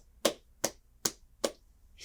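Four sharp, evenly spaced handclaps, isolated and fairly faint, with quiet gaps between them and no talking.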